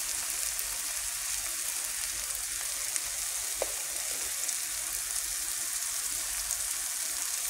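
Tomatoes sautéing for suksuka give a steady, close sizzle and crackle that hold without a break, broken only by one brief clink partway through, with no talking.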